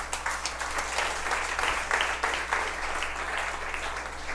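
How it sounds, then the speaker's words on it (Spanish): A church congregation claps for the Lord during an evangelism and discipleship class, a dense, steady wash of many hands filling the room for several seconds without a break. "Fuerte el aplauso al Señor."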